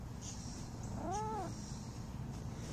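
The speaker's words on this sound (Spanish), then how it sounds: "como ustedes ven, Don Gato, pues, está muy molesto" One drawn-out, wavering cat meow rises and falls in the middle of a steady low background hum, fairly quiet and heard alone.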